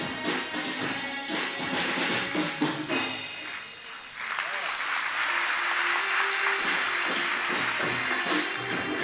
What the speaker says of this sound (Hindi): बच्चे भी तेज तालियां।